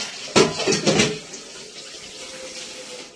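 Tap water gushes briefly into a clay pitcher set to soak, a close splashing burst that settles into a quieter trickle and then fades.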